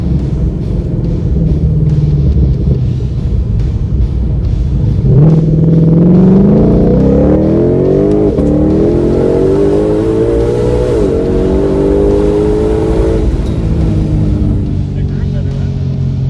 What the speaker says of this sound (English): Factory exhaust.